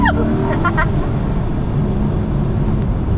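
A steady, loud supercharged engine drone from inside a Ford GT, a low mechanical hum running throughout with brief higher tones early on.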